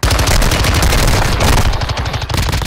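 Loud, close gunfire in Call of Duty: Warzone pounds in rapid automatic bursts that run almost continuously for nearly three seconds, with no voices over it.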